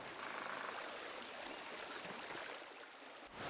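A waterfall in the video game Pentiment rushes with a soft, continuous wash of water, steady and fairly quiet.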